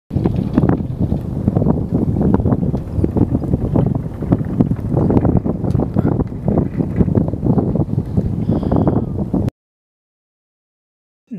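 An ice boat sails in strong wind, with steady gusty rushing and rumbling throughout before stopping abruptly, followed by a short silence.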